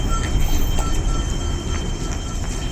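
A train rolls past nearby, a loud continuous rumble with wheel squeal and faint rhythmic clatter throughout.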